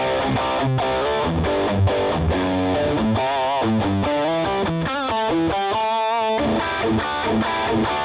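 Overdriven electric guitar through a Vox AC30 amp model on a Fractal Axe-FX plays a chiming, crunchy chord pattern with bright amp distortion, loud and continuous, no voices.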